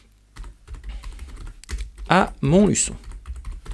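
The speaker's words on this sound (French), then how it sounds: "vous tapez en haut à gauche l'adresse où a été vu l'animal pour la dernière fois" Rapid keystrokes clatter on a computer keyboard as a street address is entered into a search box, the typing running steadily under someone speaking French in the foreground.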